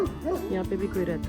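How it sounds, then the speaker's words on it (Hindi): Dogs bark and yip in short bursts close by, mixed in with someone talking over them at a property in Texas. "वो कुत्ते भौंक रहे हैं"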